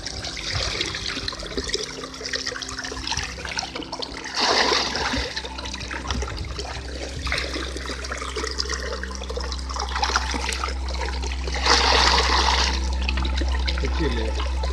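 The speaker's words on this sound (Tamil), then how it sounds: "அதனால் கொஞ்சம் நிறைய சேர்த்துக்கலாம் தண்ணி." Water splashes and trickles steadily as it is poured into a waste decomposer tank, with louder gushing bursts at moments, all close and fairly loud without speech over it.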